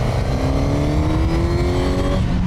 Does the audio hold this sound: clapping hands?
no